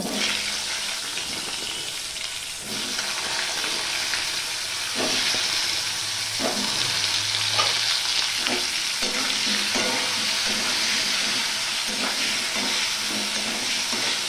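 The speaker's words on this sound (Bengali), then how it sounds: "এবার আমি এখানে কিছুটা আলু কেটে নিয়েছি, সেই আলুটা আমি ভেজে নেব।" Cut potatoes fry in hot oil with a steady, loud sizzle, broken by repeated scraping and stirring strokes in a rhythmic pattern for most of the duration.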